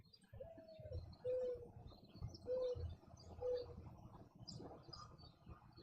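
A dove coos softly in a repeated series of four short, even calls spaced about a second apart, faint and distant over low rumbling background noise.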